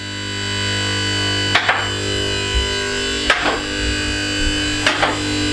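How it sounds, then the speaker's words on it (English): Car lift in a home garage rising under a steady motor hum, its locking mechanism clacking three times at regular intervals of about two seconds, each click sharp and close. "That noise you can hear is the locking mechanism."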